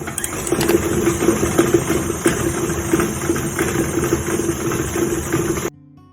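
An old stand mixer kneads cinnamon biscotti dough, its motor a steady close hum with a rhythmic knocking wobble as the machine rocks side to side, running alone before cutting off abruptly at the end.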